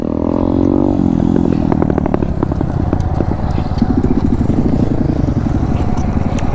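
A TVS Apache motorcycle engine hums steadily and loudly throughout, with a rhythmic throb that rises and falls as the bike circles, the note shifting partway through.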